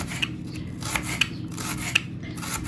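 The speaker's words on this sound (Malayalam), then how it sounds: "ഞാനിവിടെ ഇങ്ങനെ ചെറിയ ചെറിയ പീസായിട്ട് ഇങ്ങനെ മുറിച്ചെടുക്കുന്നുണ്ട്" Small shallots cut into small pieces with a knife on a board, several soft separate cutting taps spaced unevenly over steady low background noise.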